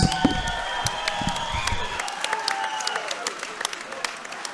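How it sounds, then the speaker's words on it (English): A crowd at an MMA event applauds and cheers two welterweight fighters after a hard bout, sharp claps crackling over a continuous roar that thins and fades slightly toward the end, with some talk mixed in. "how about a round of applause for these two welterweight fighters?"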